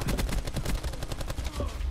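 Rapid automatic gunfire from the video game Call of Duty: Black Ops 4, a fast burst of close, sharp shots firing in quick succession for about two seconds.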